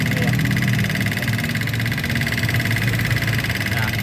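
An old carbureted Honda Vario 110 scooter engine idles with a loud, continuous rattling clatter and steady vibration, close up, with no speech over it.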